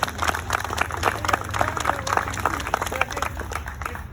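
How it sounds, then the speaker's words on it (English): Audience applause at an outdoor Declaration of Independence gathering: a dense, steady crowd clapping that fills the whole stretch at moderate loudness, with no talk over it. "So give them a round of applause as well."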